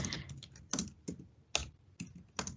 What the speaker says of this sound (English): I can type in How and Why We Read